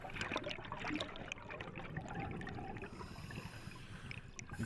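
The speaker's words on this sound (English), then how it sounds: "Here's some more bubbles to add to the confusion" Bubbles stream from an underwater diver's regulator, gurgling and rushing in close, continuous bursts with a busy, churning texture.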